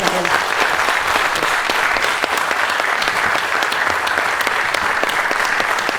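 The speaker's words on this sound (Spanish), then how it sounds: "vamos a agradecerte tu estancia aquí con un fuerte aplauso" Audience applause for an author at a bookstore event, a loud, steady wash of many clapping hands that fills the whole stretch without pause.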